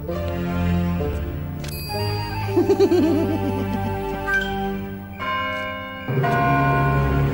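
A bright, ringing bell chimes repeatedly with sustained tones, a fluttering trill in the middle, and another clear ring near the end.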